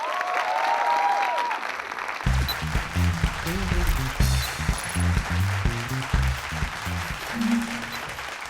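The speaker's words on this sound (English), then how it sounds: "can we start with a round of applause at 3?" Audience applause at a stand-up comedy show fills the first couple of seconds, a dense steady clapping that breaks off as loud rhythmic music takes over for the rest.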